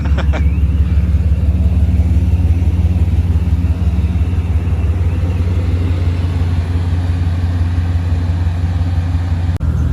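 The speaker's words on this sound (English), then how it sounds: "Going for a ride in the Batmobile." Deep, steady engine rumble from inside a Batmobile replica car riding through Monaco, loud and continuous with a low idling throb, no talking.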